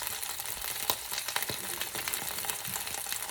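Gyoza fry in a pan with a dense, steady sizzle and crackle, close and continuous, dotted with small sharp pops throughout.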